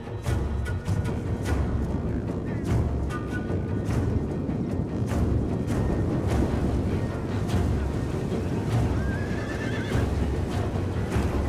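Horses neigh and whinny repeatedly over clattering hooves amid a constant, dense battle din from the Total War: Attila strategy game, with no pauses.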